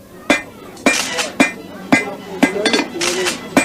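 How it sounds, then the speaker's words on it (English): A hammer that belonged to the speaker's grandfather strikes a hard surface at a country fair: six sharp, ringing metallic blows spaced about half a second apart, close and loud, with faint background chatter. "My grandfather used this hammer. It still works perfectly."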